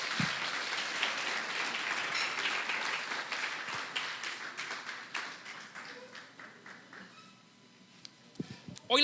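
A church congregation applauds after a prayer, dense clapping that gradually thins and fades out, followed by a few scattered claps and quiet.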